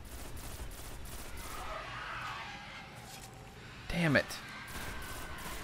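Rapid gunfire rattles in the video game Destiny in bursts of shots, loudest near the middle, while someone talks over the game sounds.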